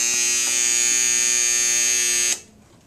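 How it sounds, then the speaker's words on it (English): Electric buzzer ringing by itself in open air, a steady loud metallic drone held for about two seconds before cutting off abruptly, leaving only a brief ringing decay. "Listen as I ring this buzzer, first by itself in open air"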